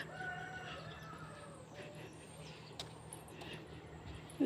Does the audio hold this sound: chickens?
yes